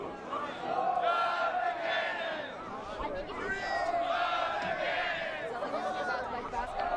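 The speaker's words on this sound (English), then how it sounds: "Crowd starting to get involved a little bit" A large crowd roars and cheers in swelling waves at a college championship final, many voices shouting together at a distance, loud and sustained.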